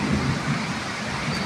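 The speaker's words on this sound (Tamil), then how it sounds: "இடி மின்னல் மழை, பயங்கர மழைங்க." A heavy thunderstorm pours rain in a steady, dense hiss over a low, continuous rumble, with no clear break and no voices.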